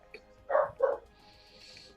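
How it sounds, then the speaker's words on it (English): A dog in a Warhammer Fantasy video game barks happily, with two close, loud barks in quick succession after a faint yip, then a quiet pause before another bark starts at the end. "Doggo sounds happy."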